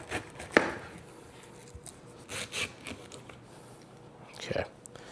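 A knife chops through a pineapple for a mango fresca: a few sharp, dry strikes against the board, spaced irregularly and fairly quiet, with soft rubbing and scraping in between.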